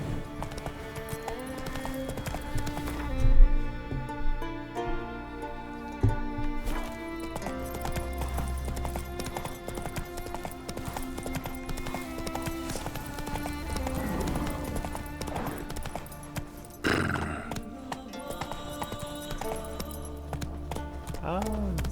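Roach, the horse in The Witcher 3 video game, gallops with steady, rhythmic clip-clop hoofbeats, joined briefly by a whinny and tack jingling over a continuous game music bed.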